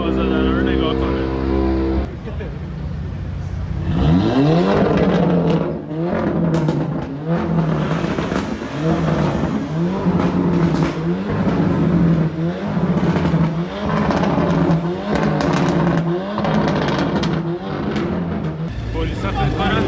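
Cars rev hard at a rowdy London car meet, engines roaring in repeated loud pulses of throttle over a continuous crowd din, with voices talking throughout.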